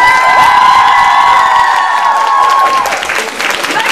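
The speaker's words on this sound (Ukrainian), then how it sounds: "Під ваші гучні оплески." A crowd at a university Vyshyvanka Day event breaks into loud applause and cheering for a talent show contestant, with whoops and children's shouts over a sustained tone, loud and close throughout.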